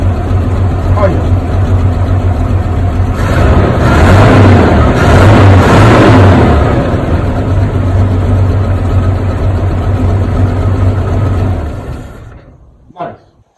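An old 1966 Chevy C10 pickup engine, unrun for roughly 15 to 17 years, runs steadily and loud with a few revs, rising mid-clip, then cuts off near the end; voices speak over it.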